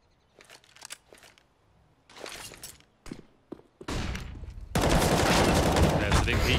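In Counter-Strike: Global Offensive, bursts of gunfire crack in short volleys, then grow into dense continuous firing and grenade blasts that fill the last seconds loudly.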